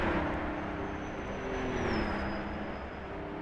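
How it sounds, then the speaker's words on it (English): Aston Martin DB3S engine rumbling steadily in a racing video game, a continuous low growl with a rising and falling pitch as the car runs, loud and close with no talk. "these cars just sound glorious. That rumble of that Aston Martin DB3S"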